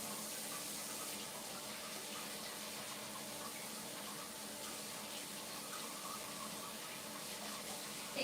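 Water runs steadily from a tap indoors, a constant hissing rush with no pauses, moderately loud and uninterrupted throughout.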